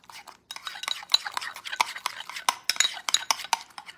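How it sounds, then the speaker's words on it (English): Freezer meal ingredients being stirred and mixed with a utensil in a bowl or dish, giving a steady run of close scraping and clinking strokes with short pauses and no talk. "So we're gonna go ahead and mix these all up."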